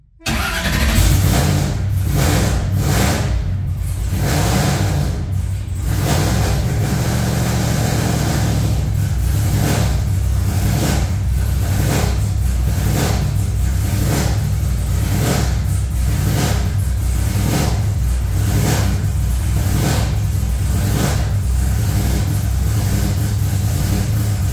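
A car engine cranks, catches and runs with a rough, uneven idle, loud and close, pulsing irregularly as though a cylinder is misfiring and occasionally revving over about twenty-five seconds with no talking.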